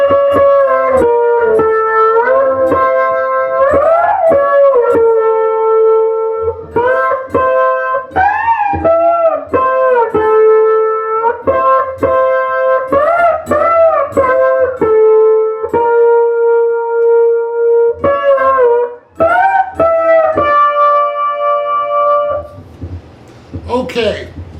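A slide guitar solo from a song, run through a harmonizer, plays a sequence of gliding, bending phrases with short breaks between them. It is loud and close and fills the whole passage.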